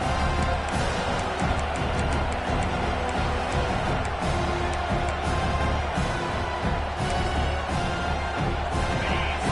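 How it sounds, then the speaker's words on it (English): A home crowd at a college football game roars and cheers in a dense, sustained wash of noise, with band and chant layers swelling throughout. "this home crowd is fired up and ready to make a difference today"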